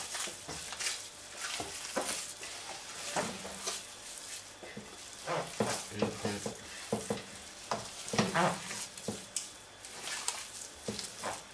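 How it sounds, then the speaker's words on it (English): A spoon stirs a salted homemade cheese mixture in a bowl, making close, wet scraping and squishing sounds in irregular bursts with brief pauses, and no voices. "Then give it a good mix."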